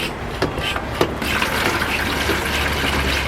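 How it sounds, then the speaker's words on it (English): Water pouring from a small container onto planted carrots in a backyard garden bed, starting with a couple of splashes and then settling into a steady, close gushing stream. "I am going to water that in using my little thing"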